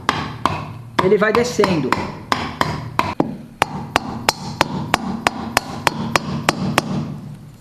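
An engine part on a rebuild is tapped into place with a wooden hammer handle, producing a steady series of sharp, close knocks at a regular rhythm while someone speaks briefly.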